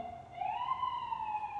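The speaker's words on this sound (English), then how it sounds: "Sorry about the sirens," An emergency siren passes outside, one wailing tone that rises and then holds steady. It sounds faint and distant over a low, constant background hum.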